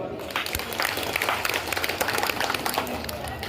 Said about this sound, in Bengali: এর জন্য একটা জোরে হাততালি।